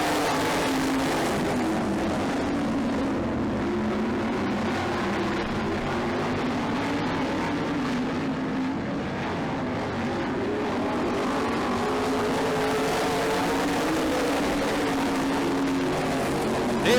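Race cars accelerating together as the green flag drops on a short oval track, a steady blended engine roar from some distance with rising and falling pitch as the field sweeps through the turns, no voices.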